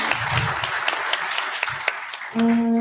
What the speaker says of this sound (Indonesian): Beri tepuk tangan sekali lagi untuk penyemangat.